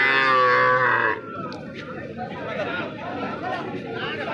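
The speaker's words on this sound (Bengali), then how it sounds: "একদম অল্প বয়স, শাইওয়ালের বাছুর, শাইওয়াল ক্রস।" A young Sahiwal cross calf gives one loud, close moo at a livestock market, followed by a background murmur of people talking.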